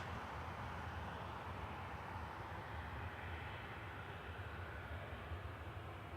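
A Ryanair Boeing 737-800 jet at Manchester Airport, its engines a faint, steady distant rumble and hiss that holds evenly, with no voices.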